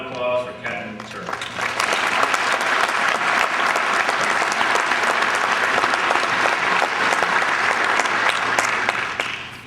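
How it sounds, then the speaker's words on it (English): An army graduation audience applauds Captain Turk at a Captains Career Course ceremony, loud sustained crowd clapping rising quickly after a brief opening and continuing strongly to the end. "Please join me in a round of applause for Captain Turk."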